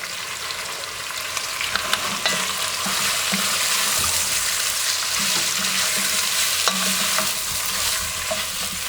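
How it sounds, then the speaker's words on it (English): Pork belly fries with aromatics in a pot, making a loud, continuous sizzle with frequent scraping and stirring clatters throughout, and no talking. "To the aromatics, we're going to add the pork belly."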